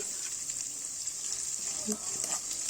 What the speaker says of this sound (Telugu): దాన్ని కూడా ఫ్రై కానివ్వండి. లైట్గా మీడియం ఫ్లేమ్ పైన పెట్టేసి